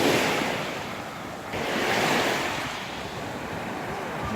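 Sea waves break steadily on a rocky shore in the morning, a loud continuous wash of surf with wind noise on the microphone and a swell that rises and falls.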